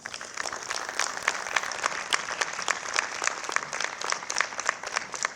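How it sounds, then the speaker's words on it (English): Crowd applause at an Urban League community center ribbon cutting, with steady, dense clapping from a sizable outdoor gathering that holds at an even level throughout. "So please join me in giving Marvin a big round of applause as he comes."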